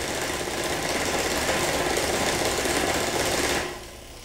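Starter motor converted to a brushless DC motor, straining as it drives a wheel through a chain: a steady, loud mechanical whir and buzz that runs continuously, then drops off sharply near the end.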